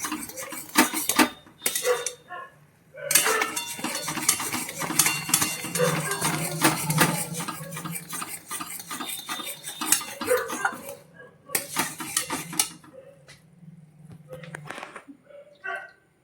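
Guava jelly in a pot is stirred continuously, heard as irregular metallic spoon scrapes and knocks against the vessel in uneven bursts, with brief quiet pauses and faint background noise.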